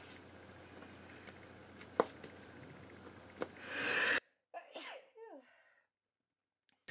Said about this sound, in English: Oh, I think I'm going to sneeze.